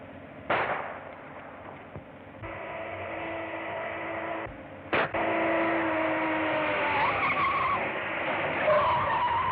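Radio drama chase effect: a speeding car's engine drones under repeated tire skids and squeals, with sharp bangs like gunshots, sounding slightly filtered and retro, continuous and fairly loud throughout.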